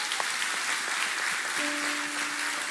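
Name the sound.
church congregation applause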